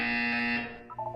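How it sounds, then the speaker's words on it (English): Harsh electronic buzzer from the video game Portal 2, a loud steady tone that cuts off after about half a second and then trails into a fainter wavering sound. "You will hear a buzzer. When you hear the buzzer, look up at the ceiling."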